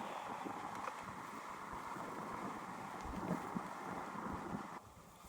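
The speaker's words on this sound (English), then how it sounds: "Wind's picking up now, it's not as warm" Wind gusting across an open hillside in the Peak District's rolling hills, a steady rushing roar buffeting close against the microphone, dropping off sharply near the end, with no talk.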